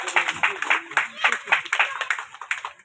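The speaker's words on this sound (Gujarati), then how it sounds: "આપણે સૌ તાળીઓથી વધાવીએ." Audience clapping to welcome a guest at a village tree-planting event in Manpur, steady rhythmic claps of moderate loudness with voices mixed in.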